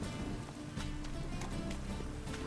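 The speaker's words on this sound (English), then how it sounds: "Rain again." Steady rain falls in The Witcher 3, a continuous hiss of drops with faint patters throughout, close and even with no voices over it.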